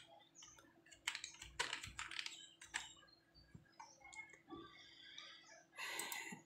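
Computer keyboard typing while setting up an ecommerce event tag, with irregular bursts of keystrokes and clicks at close range, fairly quiet and with no talking.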